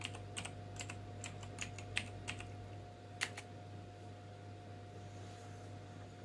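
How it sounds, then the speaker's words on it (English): Quiet keystrokes on a computer keyboard used with a Solaris 7 x86 machine, a few scattered clacks in short bursts over a steady low electrical hum, with no talking. "If I can type"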